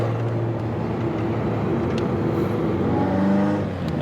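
A Ferrari 288 GTO's engine drones steadily from inside the car while driving gently, a low even hum that rises slightly in pitch toward the end as revs build, loud and close with no talk.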